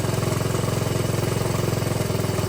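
A dirt bike engine idles with a steady, rapid low-pitched putter, close and fairly loud, with an even rhythm throughout and no voices.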